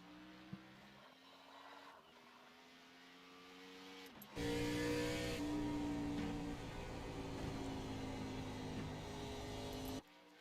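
A race car at an Eastern Central Racing Association event pulls out onto the track, its engine droning at a distance before a louder, closer surge of revving that cuts off abruptly near the end.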